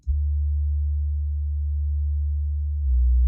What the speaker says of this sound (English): So a sine wave bass, I believe.